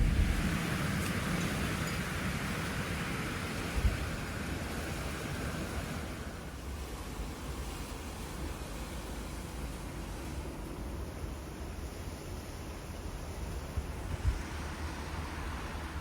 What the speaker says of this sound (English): it is crazy windy this morning